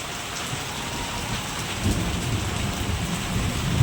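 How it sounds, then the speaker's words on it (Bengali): Heavy monsoon rain pours steadily onto a village yard, a dense continuous hiss of drops hitting the ground and roof, close and unbroken, growing slightly louder toward the end. "আর এখন তো অনেক ভালোই জোরে বৃষ্টি হচ্ছে"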